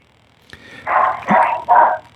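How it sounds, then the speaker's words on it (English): A dog barks in the background of a radio interview, three short barks in a row, fairly loud against a quiet backdrop. "With barking in the background"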